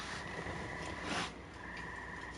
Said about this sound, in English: You can hear the frogs out.